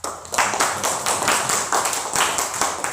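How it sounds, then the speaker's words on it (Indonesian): A high school class claps for a classmate after a shot put throw at school: a dense run of brisk, close handclaps pulsing in quick rhythmic waves for a few seconds. "Oke, kasih aplaus."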